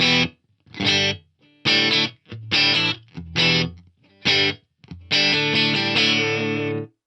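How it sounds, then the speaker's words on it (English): Heavily distorted electric guitar plays chopped chords in bursts, ending on a sustained ringing chord, with a tight, short room ambience from a Roland SRV-2000 digital reverb's small room setting. "Let's have a listen to the really small room with some distortion right now"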